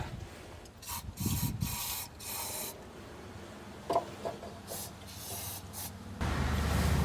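Lube sprayed onto a stuck part of a Chrysler car in short hissing bursts, several separate sprays with scraping and handling noises between them, close and fairly loud.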